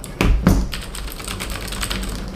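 Keys typed on a HyperX Alloy FPS Pro mechanical keyboard with Cherry MX switches: two heavier close thumps, then a quick run of lighter clicks, with no voices.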